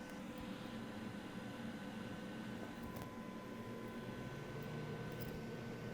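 A microwave runs on a Milwaukee MX Fuel power supply, giving a steady low mechanical hum with a faint tonal whine that stays even and quiet throughout.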